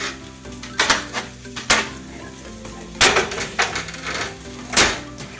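Roasted potatoes and cauliflower being stirred in a skillet, with a utensil scraping and knocking against the pan in several uneven clanks between softer shuffling, close and fairly loud, with no talking.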